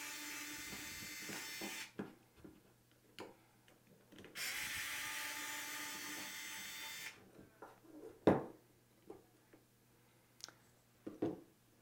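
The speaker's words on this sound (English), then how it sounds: "I'm going to go ahead and use my power tool to take them the rest of the way out." Short bursts of a power driver whirring as it removes screws from a conical coffee grinder's motor, two long sustained runs with brief stops between, followed by scattered clicks and clunks of parts being handled.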